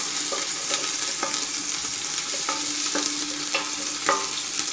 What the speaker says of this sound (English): It's best to leave your garlic fry first in the oil to release its flavor